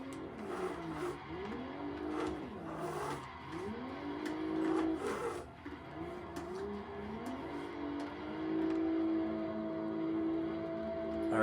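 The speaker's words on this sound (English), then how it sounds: "I'm not going to make you watch that much of my drifting" Engine revs rise and fall in repeated sweeping swells as a car drifts through turns in Assetto Corsa, with tire noise and a steady high whine; no speech.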